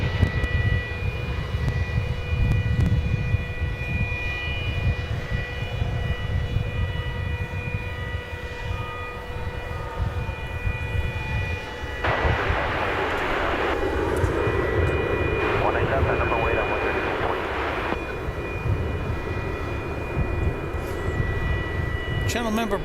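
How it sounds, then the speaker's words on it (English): An American Airlines Airbus A319 arriving at DFW airport from Monterrey, Mexico gives a steady jet engine roar with whining tones, swelling louder midway, while people talk over it. "Here comes American Flight 831 from Monterrey, Mexico"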